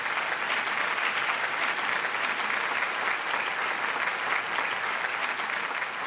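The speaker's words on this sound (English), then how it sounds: "Give a round of applause," Steady, dense applause from the audience at a Bharatanatyam arangetram dance debut, continuous and fairly loud throughout with no talk over it.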